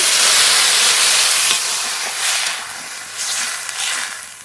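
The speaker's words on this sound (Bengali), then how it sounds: "এবার জল দিয়ে দেবো জল" Water poured into a hot pan of potatoes and cauliflower cooking in spices bursts into a loud, close steaming hiss that gradually eases over a few seconds.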